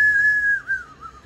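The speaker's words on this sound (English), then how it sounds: "Clay whistles, and as Marlies mentioned, made in Austria, and they are stained" A handmade, stained clay whistle from Austria gives one steady, clear tone that wobbles and dips slightly near the end, close and alone.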